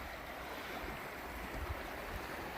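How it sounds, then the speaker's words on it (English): Steady rushing water of a spring creek at its confluence with the Metolius River, a constant broad wash with slight wind, close and even throughout, no voices. "some spring creek."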